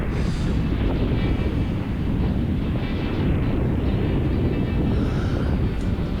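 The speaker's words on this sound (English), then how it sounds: "the wind picks up down here just a little bit before it gets really gusty" Strong, steady wind roars over the microphone at a beach during kitesurfing, a loud, continuous rumble with no talk.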